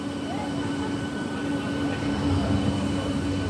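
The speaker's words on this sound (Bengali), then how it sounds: "এবার চলবে সোজা ব্রডগেজ ট্রেন।" A broad gauge train runs toward Krishnanagar City Junction, its continuous low rumble and steady rail drone heard from close by, holding at an even loudness.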